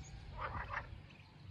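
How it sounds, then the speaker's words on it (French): Green frogs croaking in water, a short burst of three or four low rattling croaks, faint over steady outdoor background noise. "Vous entendez les grenouilles? Ah j'en vois là qui, quand elle chante, on voit bouger dans l'eau."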